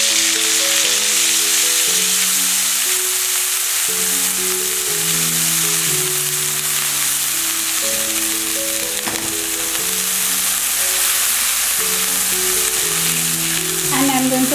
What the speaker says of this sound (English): I am going to fry it for 5 minutes